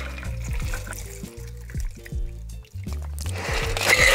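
A tequila cocktail is strained through a Hawthorne strainer and poured over ice into a rocks glass; soft liquid trickling and splashing sits under steady background music, growing a bit louder near the end.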